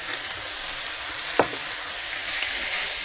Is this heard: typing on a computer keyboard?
no